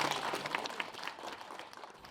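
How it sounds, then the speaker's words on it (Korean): Audience applause welcoming an elderly bride and groom at a reenacted traditional 60th-anniversary wedding ceremony, a short burst of scattered, fairly faint clapping from a small crowd. "큰 박수로 환영해 주시기 바랍니다"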